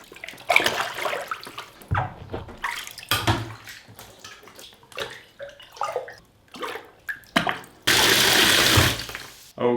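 Running water rinses a pair of selvedge denim jeans in a bath, with a steady splashing hiss that builds to a loud, continuous gush near the end.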